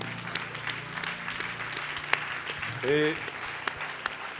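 A church congregation applauds in steady, close clapping that fills the space, with a brief voice speaking and a short sung or called note partway through.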